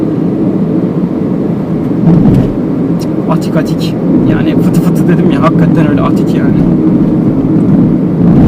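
Inside a Hyundai i10 cruising at about 90 km/h, a constant low road rumble and wind rush fill the cabin, staying steady beneath someone talking for most of the stretch.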